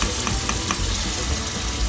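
Mustard greens, spinach and fenugreek paste hits hot frying masala with a steady, loud sizzle and crackle that runs without pause, with faint stirring clicks on top.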